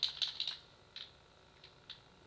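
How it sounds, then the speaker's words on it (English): Buttons on an Xbox controller are pressed during a Halo 2 glitch: a quick cluster of soft plastic clicks, then a few isolated taps, close and quiet. "You press X, Y, B, R trigger, all at the same time, simultaneously, like this."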